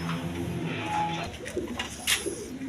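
A pair of red khaki pigeons coo softly at close range, low throaty calls over a steady background murmur, with a brief sharper sound near the end.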